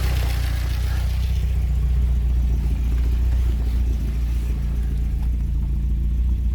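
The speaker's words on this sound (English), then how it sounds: "the engine is warming up" A Porsche 924 engine idles steadily while warming up at about 950 rpm, a continuous low rumble close by with no voices over it.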